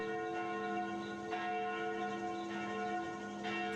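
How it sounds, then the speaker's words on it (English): Church bells ring at noon in the video game Sucker for Love, a steady, sustained resonant peal with repeated strikes every second or so, heard alone without talk. "Those sound like the church bells at noon?"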